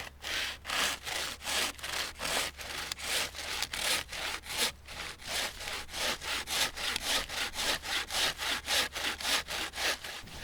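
A hand saw cuts through a log outdoors, with steady back-and-forth rasping strokes repeating at a regular rhythm, close and loud throughout, with no talking.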